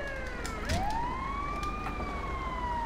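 Fire truck siren in GTA V Online, a loud rising and falling wail sweeping up and down close by, over steady engine rumble.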